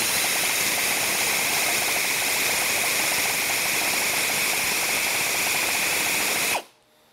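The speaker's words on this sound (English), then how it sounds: "I've just got a um, air powered ratchet here to power this. And we're just gonna start letting it spin." An air-powered ratchet spins a steam locomotive throttle valve during turning and lapping, giving a loud, steady whirring drone with a constant high tone that runs for several seconds before cutting off abruptly.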